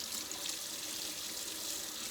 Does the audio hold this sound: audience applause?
no